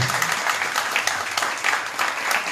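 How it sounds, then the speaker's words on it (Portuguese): Audience applause after an evening talk, a steady wash of many hands clapping close by, with no speech over it. "Uma salva de palmas."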